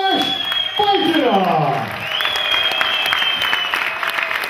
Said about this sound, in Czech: Dámy a pánové, prosím velký aplaus.